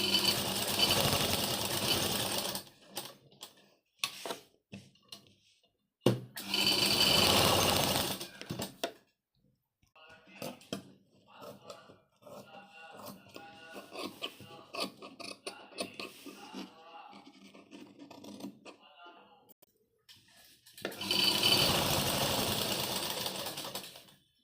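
A sewing machine stitches the neckline of a back-hook blouse in three loud, rapid whirring bursts, separated by stretches of quieter clicking and handling of the fabric and machine.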